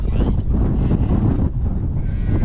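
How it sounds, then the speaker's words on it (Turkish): Strong storm wind buffets the microphone outdoors, a loud continuous roaring rumble with gusty surges and little else audible. "Rüzgar var hakikaten arkadaşlar."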